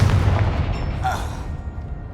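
Confringo fire spell exploding in Hogwarts Legacy, a heavy boom at the start fading into crackling debris and a short bright magical whoosh, with a shout just before it.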